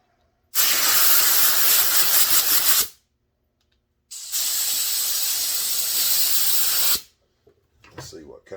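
Two sharp, loud bursts of spray hiss from a McCulloch Super Pro 125 chainsaw part, each lasting a few seconds with silence between, followed by faint handling noises.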